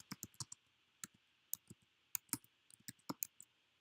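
Keys clicking on a computer keyboard, sparse quiet taps in small irregular bursts, close but faint, with no speech.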